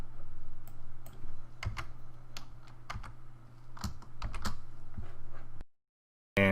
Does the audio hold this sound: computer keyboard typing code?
yes